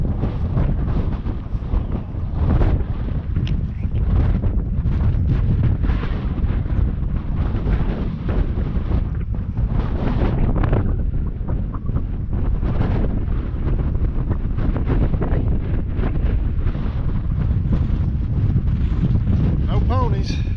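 Strong, gusting wind roars across the microphone on a high-country hike, loud and constant throughout. Someone talks intermittently, half-buried beneath the buffeting.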